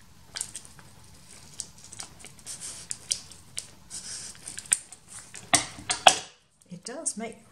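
Scissors snip through card laid on backing paper, a run of short crisp cuts with sharper clicks near the end, close by and fairly quiet over faint room noise.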